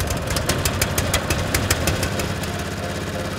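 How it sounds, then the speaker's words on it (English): A professional lawn mower engine runs at a steady idle-like drone on a football club's grounds, close and constant with a faint rhythmic ticking throughout and no voices. "It's a really good professional mower."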